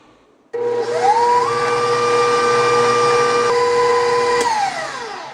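Electric mixer whirring as vanilla and an egg are stirred into creamed butter and sugar for quick teatime cookies, a steady loud motor drone that rises in pitch as it speeds up, holds, then drops back near the end.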